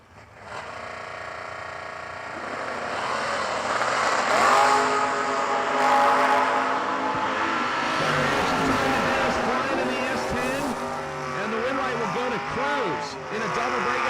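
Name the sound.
drag race cars launching, S10 and 67 Camaro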